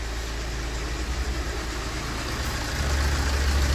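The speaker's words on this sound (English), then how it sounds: "But other than that, the engine runs normal." A BMW 120d diesel engine idles close by, a steady low rumble that grows slightly louder near the end.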